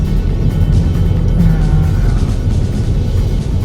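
A car creeps forward under light throttle in a narrow alley, its engine a steady low hum with a faint rise in pitch as it gains speed, close and continuous with no talking.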